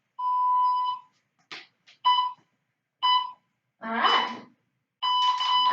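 An exercise interval timer in a seniors' home workout starts up with a run of separate electronic beeps, spaced about a second apart, clear and close, while a person says a few words in between.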